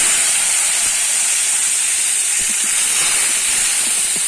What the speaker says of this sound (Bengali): টমেটোটা আমি একটু ভেজে নেব